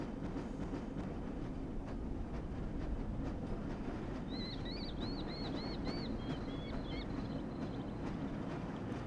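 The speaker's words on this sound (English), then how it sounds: "This lever-controlled train will transport you to a location where your training associates are waiting for you" Lever-controlled train moving in the Black Mesa video game, a steady low rumble and rattling roll with faint rhythmic clacks, plus a brief high whistling screech midway.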